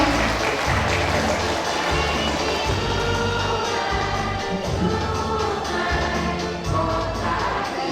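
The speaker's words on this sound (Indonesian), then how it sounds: "Kita berikan tepuk tangan yang mulia." Audience applause at an Indonesian education training opening ceremony, a sustained patter of clapping from a seated crowd in a hall, moderately loud and steady for the full length.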